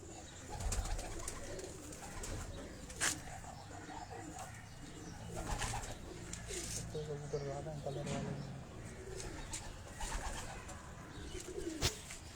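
Pigeons coo on a rooftop in Karachi, soft rolling calls coming and going over several seconds amid faint voices, light clicks and scattered rustling.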